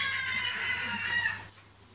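A house cat gives a sustained, strained meow with a steady harmonic tone, close and fairly loud, cutting off sharply near the end.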